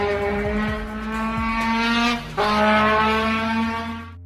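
A musician mimics a superbike on an instrument, sustaining a loud, steady engine-like drone whose pitch climbs gently, breaks off briefly just past the halfway mark, then resumes like a bike revving through a gear shift.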